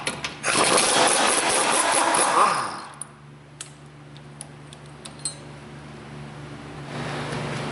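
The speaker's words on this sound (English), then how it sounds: "Remove this bolt right here that holds the park and brake cable to the axle." A bolt holding the parking brake cable to the rear axle of a Dodge Grand Caravan is worked loose: a loud burst of ratchety tool noise for about two seconds, then scattered sharp metallic ticks and clicks against quiet shop background.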